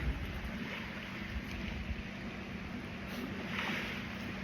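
A loud motorboat passes over open water, its steady engine drone and hiss held at an even level for several seconds with no talking.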